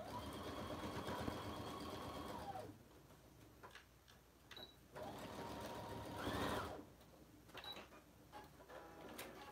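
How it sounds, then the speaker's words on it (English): A sewing machine stitches two bag corners together in loud mechanical bursts, with the motor running steadily at first and then starting and stopping in shorter runs separated by pauses. "Bring the sewing machine, and I'm gonna sew those two corners together."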